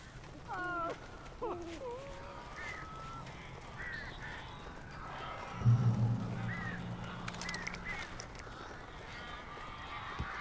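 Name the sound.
crows cawing in video game Alan Wake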